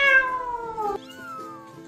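A cat meows once in a long, loud, descending drawn-out call, then a softer second meow follows, close and clear with no talk over it.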